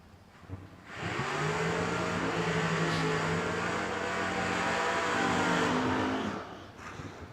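Door cars launch at a bracket drag racing event, a loud sustained engine roar rising in pitch as they accelerate away, holding steady for several seconds before fading, with no talk over it.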